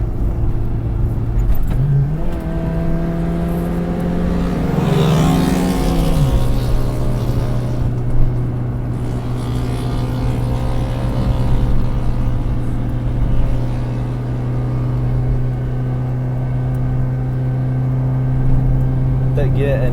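Engine of a Proton Saga car pulling through the gears under acceleration, a steady loud drone from inside the cabin that climbs in pitch, drops with a shift, then holds, while a person talks over it.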